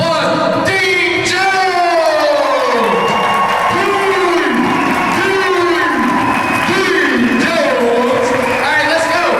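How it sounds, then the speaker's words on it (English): A crowd applauding and cheering loudly at a business event, with whoops, shouts and clapping blending into a continuous roar while a voice talks over the noise. "let's give him a round of applause"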